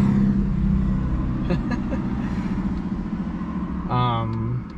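BMW E92 M3 driving with a loud aftermarket exhaust, a steady engine drone with a brief rev rise near the end, while a person talks over it.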